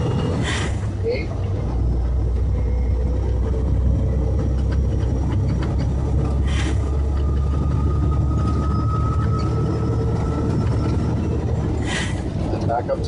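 Semi truck diesel engine droning steadily while gears are floated without the clutch, a continuous low rumble with subtle shifts in pitch and brief changes between gears.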